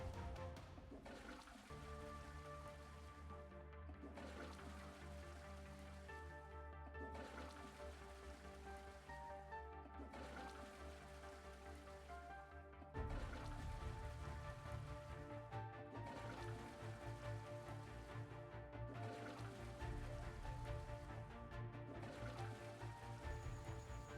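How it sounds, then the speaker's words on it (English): A toilet in a restroom cubicle in the video game Resident Evil Requiem, flushed repeatedly in a steady rhythm of rushing water bursts with a brief pause between each flush, fairly quiet and heard alone. "Now we just have to flush 8 times."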